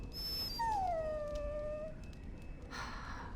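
Dog in the video game Dragon Age Origins letting out a single long, high whimpering whine that slides downward, clear and close, followed by a short rustle.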